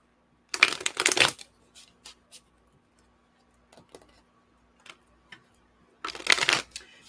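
Gilded Tarot cards are shuffled by hand, two short riffling flurries at the start and end with scattered soft taps and card slides between, close and fairly quiet.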